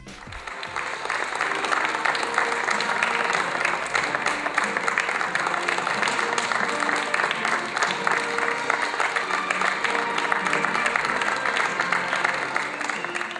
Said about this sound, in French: sous un tonnerre d'applaudissements que le pilote du Team Tech 3 est accueilli